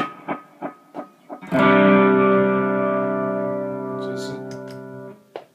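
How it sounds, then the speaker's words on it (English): A few muted picked notes lead into a sustained distorted electric guitar chord through an analog delay pedal that rings out with delay repeats and fades, with faint clicks near the end. "It's an awesome little delay. It's an analog delay."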